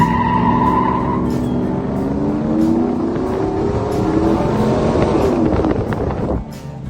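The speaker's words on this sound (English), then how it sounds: "This is John Force takeoff burnout on our bridge." A truck does a takeoff burnout on a bridge, a loud, close engine roar rising and wavering in pitch as the tires spin, with rasping tire noise throughout, then cutting off sharply near the end.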